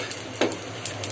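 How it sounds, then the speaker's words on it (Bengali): Whole spices dry-frying in a hot pan, a soft faint crackle with a few light stirring scrapes and taps, close and brief. "মশলা ভাজা হচ্ছে।"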